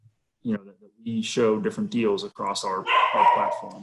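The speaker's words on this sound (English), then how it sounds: "Apologize for the dogs in the background." A dog yips and barks a few times in the background under a man's steady speech, indoors, with short high-pitched bursts mixed in with the talking.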